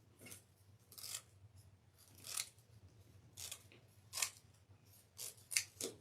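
Scissors snip through decorative deco mesh being cut off the roll for a rose wreath, a series of short, quiet crisp cuts spaced irregularly, close up with no talking.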